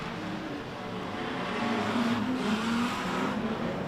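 Street stock race cars roar on the dirt oval at Mildura Speedway, a continuous blended engine drone from a pack moving off, steady and fairly distant with no talk over it.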